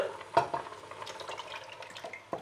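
Tomato sauce goes into a large pot of simmering lamb stew with meat pieces, giving soft stirring and scraping, a few light clinks against the pot and a faint sizzle, all quiet and close.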